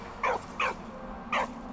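A dog in the video game Valiant Hearts gives three short, close yips or barks in quick succession over a low steady background hum.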